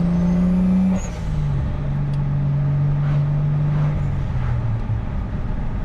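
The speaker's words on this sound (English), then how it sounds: "Turbo lights up really fast." An MK3 Toyota Supra turbo engine pulls hard on a highway run: a loud, steady engine drone holds close and constant for several seconds, its pitch dipping briefly at a shift, with turbo whine and faint hiss above.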